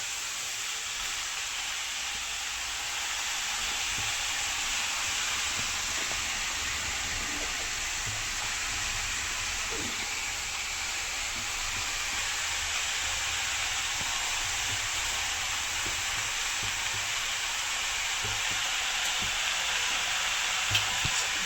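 Safflower leaf greens (kardi bhaji) fry steadily in a pan, a constant soft sizzle and hiss with occasional faint scrapes of stirring, no voices, lasting over twenty seconds.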